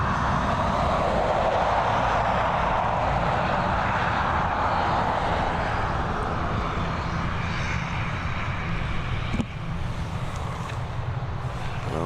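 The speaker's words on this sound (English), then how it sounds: "we've got the ATR 72-600 following this one straight out" An ATR 72-600 turboprop airliner takes off at Dublin Airport, a loud, sustained engine roar filling the whole stretch without letup.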